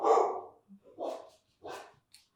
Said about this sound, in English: Leave him alone, he's gonna bark.